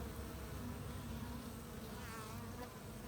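Honey bees buzz steadily and close around a mated queen being introduced to the colony, a dense humming drone that holds throughout with no voices.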